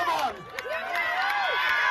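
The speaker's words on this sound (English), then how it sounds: "Cheer him on, guys! Cheer him on!" A crowd cheers and shouts encouragement for a contestant named Shen at a chilli eating contest in Wales, with overlapping excited voices and yells rising and falling continuously close by.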